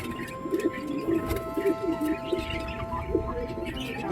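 Pigeons, including a female, cooing in a loft: repeated soft, low throaty coos in short phrases, fairly close, over a steady background hum with faint chirps.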